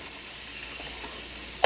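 Wood ear mushrooms fry in an uncovered pan, giving a steady soft sizzle and hiss at close range, with a brief louder clatter right at the end.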